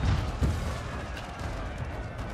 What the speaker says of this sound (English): those cannons seem to be causing some ruckus